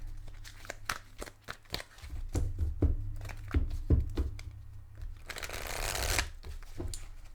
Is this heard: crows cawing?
no